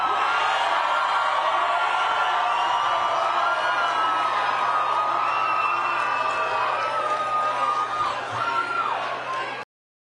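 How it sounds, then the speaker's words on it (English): A large crowd at a rally cheers, whoops and shouts continuously, a dense roar of many voices with scattered higher yells rising over it, sustained for about ten seconds before cutting off abruptly. "Like, just cheering."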